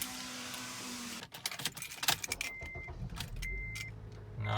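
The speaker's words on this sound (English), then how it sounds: "Let's start up the car." An Acura TSX just fitted with new spark plugs: clicks and two brief electronic chimes, then the engine cranks and catches with a deep rising rumble at the end, close by.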